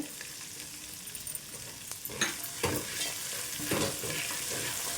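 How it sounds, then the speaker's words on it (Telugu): Poha mixture ingredients with curry leaves frying in hot oil as a spoon stirs them, giving a steady sizzle with a few louder scraping pushes, close and alone with no talk. "కలుపుకుంటూ ఫ్రై చేసుకోవాలండి."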